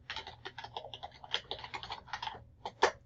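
Rapid keystrokes on a computer keyboard as a password is entered at a login screen, a dense run of close clicks with one sharper tap near the end.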